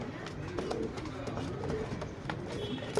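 Male tamral makshi tumbler pigeons in Bangalore coo softly nearby in short repeated bursts, with faint background noise and occasional light rustling.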